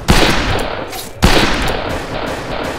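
Two sharp, loud gunshots in the Western shooter video game Fistful of Frags, about a second apart, each a close crack followed by a ringing decay.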